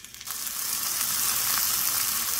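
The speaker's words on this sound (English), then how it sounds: "it needs to be really hot before I put in my steak, my well seasoned steak" Well-seasoned steak laid into very hot oil, a brief quiet moment breaking into a loud, continuous close sizzle that holds steady to the end, without talk.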